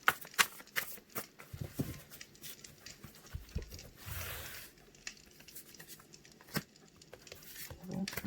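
Tarot cards being shuffled and drawn at close range, quiet papery flicks and riffles coming in irregular bursts with soft taps between them.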